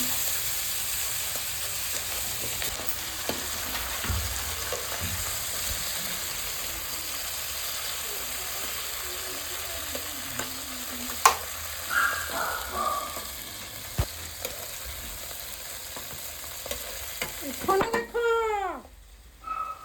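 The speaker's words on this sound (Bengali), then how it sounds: "প্যানে তেল দিয়ে মাছগুলো তুলে দিলাম।" Small tangra catfish fry in oil in a pan with a continuous moderate sizzle, broken by occasional clicks and scrapes and a few louder spatters toward the end.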